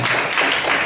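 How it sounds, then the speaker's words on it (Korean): A church congregation claps together in steady, dense applause, loud and close, with no pause through the short burst. "우리 하나님께 영광의 박수 올려드리겠습니다"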